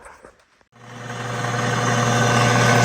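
A metal lathe runs up in back gear for slow spinning, a steady mechanical hum and whir that builds in loudness after a brief pause, close and without speech.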